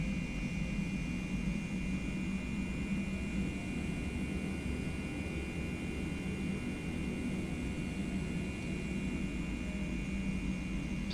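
A TFDi Boeing 717-200 jet in the Prepar3D flight simulator on a rolling takeoff at Alice Springs, a steady roar of engines with a constant whine, even in level throughout and without speech.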